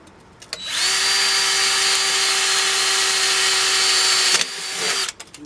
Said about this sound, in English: Just drill that dimple.